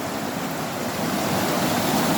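Rain-swollen river rushing in flood after heavy rain near Pangas Falls, a dense, loud, continuous roar of churning water with no pauses.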